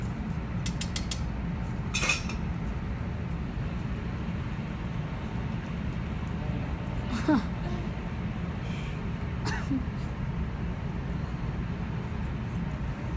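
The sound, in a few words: stirring macaroni and cheese in a pot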